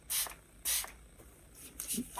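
A cosmetic pump bottle spritzes a few quick, close hissing mists, two strong bursts, then lighter ones, in a quiet room.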